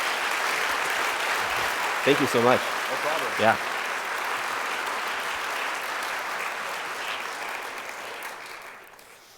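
A congregation gives a round of applause, a steady, moderately loud patter of many hands that continues for most of the stretch and then fades away. A few brief spoken words pass over the clapping near the start.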